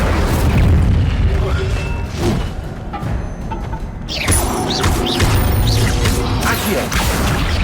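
An Incendio fire spell cast in the Hogwarts Legacy video game on PS5 bursts out in loud booming blasts and crashes, with a rolling fiery roar that dips briefly and then surges again amid busy combat effects.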